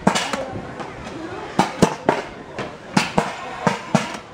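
Several sharp popping thumps from a tennis ball launcher firing at targets, in an irregular series, close by and fairly loud, with people talking excitedly in between.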